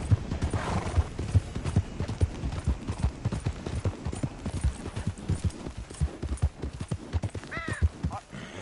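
A horse gallops in Red Dead Redemption 2, its hooves beating a quick, steady clip-clop close by, with a brief whinny near the end.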